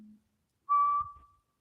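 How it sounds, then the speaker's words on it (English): A single short, clear whistled tone rings out in a quiet space after a faint low hum, fading within a second. "I'm trying to get a whistle in response."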